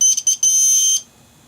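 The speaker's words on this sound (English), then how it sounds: "That's too low of a voltage and the alarm goes off." Shrill low-voltage alarm buzzer on a Hoyer patient lift sounds in a few quick stuttering bursts, then holds a steady piercing tone before cutting off abruptly into near silence.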